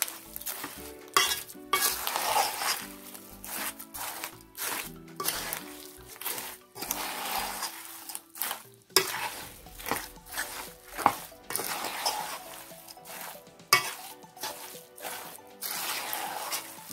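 Fried edible gum is mixed in a pan for gondh pinni, with steady scraping and stirring of a spoon against the metal and light rattling of the pieces, close and fairly quiet.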